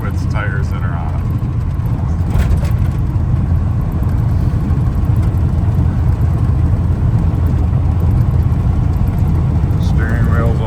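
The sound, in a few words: 1987 GMC K1500 pickup truck engine while driving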